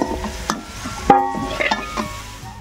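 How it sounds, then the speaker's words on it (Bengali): Dry red chillies, whole cumin and bay leaf temper in hot oil, a light sizzle broken by sharp metallic clinks of a spatula against the pan. "ফোড়নে আমি শুকনো লঙ্কা গোটা জিরে দিয়ে দিচ্ছি, আর দেব তেজপাতা"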